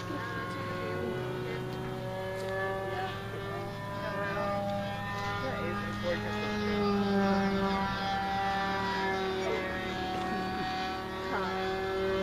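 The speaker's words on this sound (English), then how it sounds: "Oh, that's an interesting outside loop with a float plane." A radio-controlled float plane flies an outside loop at a club fly-in, its small engine droning steadily at mid distance and rising and falling in pitch as it passes, with people talking over it.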